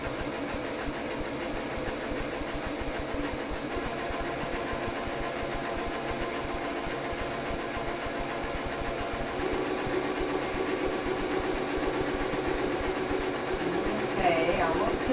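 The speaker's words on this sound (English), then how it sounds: "this is my brand new sewing machine" A computerized Singer sewing machine runs continuously, its motor whirring with a fast, even mechanical rhythm while stitching, close and steady throughout.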